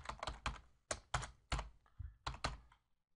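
Computer keyboard typing code in irregular bursts of sharp, close keystrokes with short pauses between clusters, no voices.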